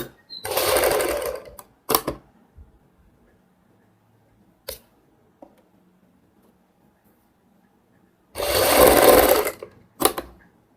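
Sewing machine running a loose basting stitch around a kurti neckline, two loud bursts of rapid stitching about a second long each, separated by quiet pauses with faint handling clicks.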